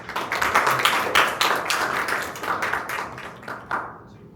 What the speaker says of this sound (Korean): 최은석 선생님을 큰 박수로 맞아주시기 바랍니다